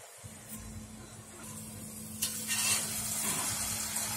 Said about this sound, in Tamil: இப்போ நம்ம முறுக்கை ஒவ்வொன்றா ரொம்ப கேர்ஃபுல்லாக ட்ராப் பண்ணலாம்